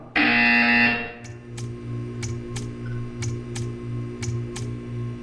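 A loud buzzer blares from the Portal 2 video game at the start, lasting about a second, followed by a steady low electronic hum with a series of sharp, evenly spaced ticking clicks.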